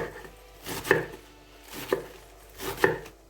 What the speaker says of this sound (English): chop it small